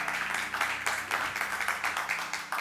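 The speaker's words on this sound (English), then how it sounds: "Clap your hands if you're excited about the word" Audience in a church service clapping their hands together, a dense steady patter of many hands close by with rising and falling bursts throughout.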